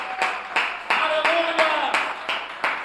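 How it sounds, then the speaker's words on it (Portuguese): A church congregation claps together in a brisk, even rhythm of roughly three claps per second, with a voice carrying on over the clapping throughout. "Vamos aplaudir a Ele pela sua palavra, vamos."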